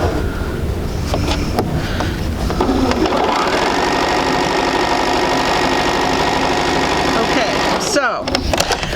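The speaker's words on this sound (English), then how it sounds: "go ahead and sew these together" A sewing machine stitches fabric pieces together for a sampler quilt, running as a steady, loud mechanical whir for most of the stretch before stopping abruptly near the end, with a voice talking over it.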